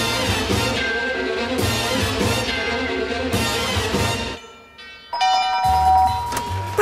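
A doorbell rings repeatedly in a French comedy, loud ding-dong chimes in several insistent bursts with a brief quiet gap before it sounds again.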